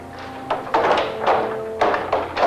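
Doors of a full auditorium swung shut, several dull thumps and knocks in uneven succession, fairly loud and close, over a low background hum.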